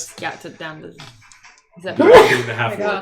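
A single sharp sneeze bursts out in the middle of a group conversation, loud and close, with people talking before and after it.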